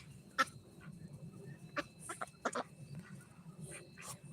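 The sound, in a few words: ducks quacking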